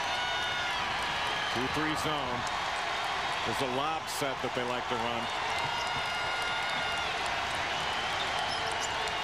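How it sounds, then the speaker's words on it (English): A crowd at a New Year's Eve college basketball game between UNLV and Louisville fills the arena with a steady roar and cheering, while a commentator talks over it throughout. "Crowd coming to life here on New Year's Eve."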